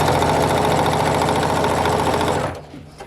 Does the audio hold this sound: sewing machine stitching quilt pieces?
yes